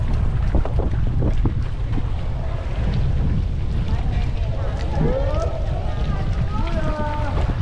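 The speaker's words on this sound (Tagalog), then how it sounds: "Mahangin kasi, no? Hangin man." Strong wind buffets the microphone in a constant low roar at Minalungao National Park, with water sounds and faint voices calling out in the background.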